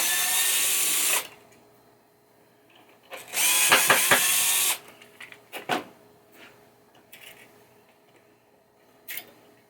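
Screws being backed out of a 1980 Williams Firepower pinball playfield during a teardown, heard as two loud buzzing bursts of a powered driver separated by quieter clicks and handling knocks, then scattered light taps.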